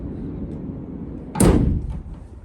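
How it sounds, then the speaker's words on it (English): The sliding side loading door of a 2025 Volkswagen Crafter 2.0 TDi van rolls open in one loud, close whoosh and thud over quiet background hum. "Let's open the side loading door."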